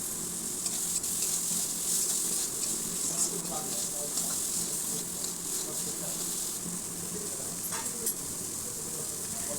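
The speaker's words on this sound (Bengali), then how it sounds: "এবার এটাকে আমি ভালো করে কষিয়ে নেব।" Egg tarka masala being sautéed in a pan, a soft, continuous sizzling hiss with light scraping of stirring throughout, quiet and close.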